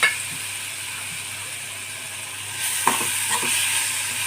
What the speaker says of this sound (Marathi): मिरची भाजलेल्याच आता कढईमध्ये आपल्याला ठेचा टाकून घ्यायचा आहे. थोडं तेल टाकलं आहे मी, जास्त नाही.